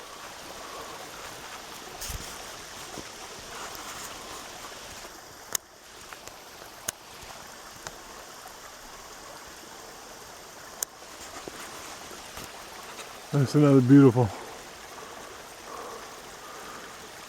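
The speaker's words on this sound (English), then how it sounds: "little waterfall, little freshwater runoff down in the creek" A small waterfall and freshwater runoff trickle down into a creek in Mammoth Cave National Park, a soft continuous rushing wash with occasional faint knocks and a brief spoken remark near the end.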